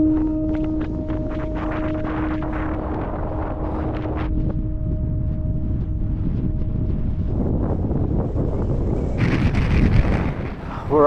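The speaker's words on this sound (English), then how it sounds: "It's super windy up here." Strong, steady wind roars and buffets throughout on a high mountain pass in Rocky Mountain National Park, with a faint tonal hum early on and a brief voice near the end.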